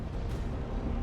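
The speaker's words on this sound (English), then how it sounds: "Oh, flashbang." A flashbang grenade detonates in Space Marine 2 as a dull, rumbling low boom that holds at a steady level through the short moment, with no talking.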